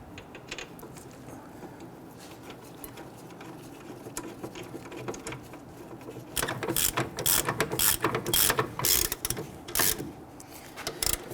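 A ratchet tightens the brake caliper bracket bolts on a 2006-2012 Toyota RAV4's rear brakes, starting as faint scattered clicks and turning into loud, rapid bursts of close ratcheting clicks in the second half, with no talking.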